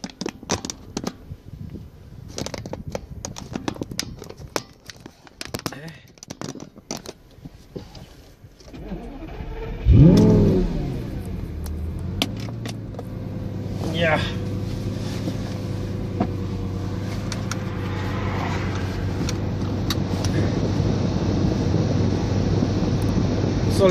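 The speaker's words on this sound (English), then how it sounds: "I'll take you guys for a little ride now, eh? So that you can hear the beautiful engine." A Lamborghini sports car engine starts and settles into a steady idle and drive hum inside the cabin, with rustling and handling noise before it fires up.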